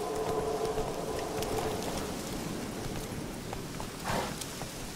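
Horse hooves pound steadily in The Witcher video game, a continuous rhythmic clatter with a brief louder burst near the end, under a dense game soundscape.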